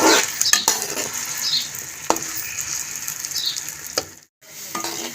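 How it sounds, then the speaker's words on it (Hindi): Okra (bhindi) fries in hot ghee with a close, crackling sizzle, punctuated by sharp clatters of stirring and a momentary drop to near-silence. "अब इसके अंदर ऐड कर देंगे भिंडी हम 2 दफ़ा फ्राई करेंगे।"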